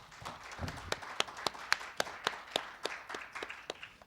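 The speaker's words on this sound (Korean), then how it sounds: "큰 박수로 모시겠습니다" Sparse, distinct claps from a small audience at a Korean health-policy forum welcome a keynote speaker, individual hand claps ringing out unevenly in a quiet hall rather than a full ovation.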